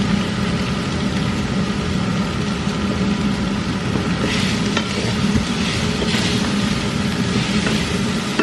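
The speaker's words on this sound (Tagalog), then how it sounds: "Jetzt anschwitzen." Noodles and other ingredients sauté in a hot pan with a steady, dense sizzle and frying crackle that never lets up, close and fairly loud, with occasional stirring scrapes.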